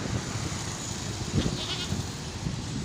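A male goat bleats a few times, fairly close, at a livestock market, over a steady background hum.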